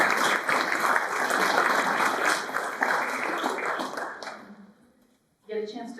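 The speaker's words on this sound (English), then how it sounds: "So another applause for our team" Audience at a fundraising breakfast applauds the build team, steady dense clapping that gradually thins and dies away to near silence, after which a voice begins speaking.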